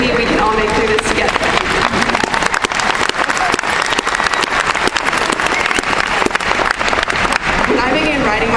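Loud, sustained audience applause with cheering fills a graduation hall during a 2012 valedictorian speech, dense clapping running steadily throughout with crowd voices mixed in.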